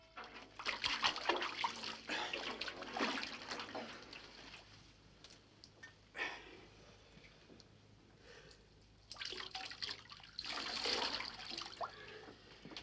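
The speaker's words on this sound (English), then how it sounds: "We'll give him a good wash." A dog is washed in a tub, with splashing and pouring water coming in loud bursts, a quieter middle stretch, then renewed sloshing near the end, with faint background noise and no clear talk.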